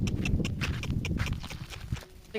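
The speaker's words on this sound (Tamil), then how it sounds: "தள்ளு மாடு வருது" A cow walks past with quick, rhythmic hoofsteps clopping close by over a rough ground rumble.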